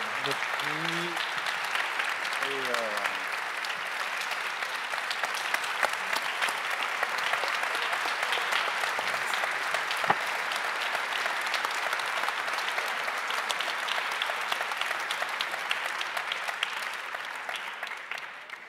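Sustained applause from an audience at an award ceremony during a congress prize presentation, a dense, even clapping that runs loud and unbroken throughout, with a brief voice or two at the start.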